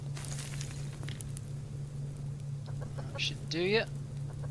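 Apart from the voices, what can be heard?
chickens clucking in video game Subsistence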